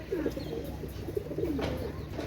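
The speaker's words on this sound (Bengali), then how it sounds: "একজোড়া কেটিএম টেটে কবুতর মাশাআল্লাহ।" A pair of Pakistani KTM pigeons coo softly nearby, a few low rolling calls over a faint background hum.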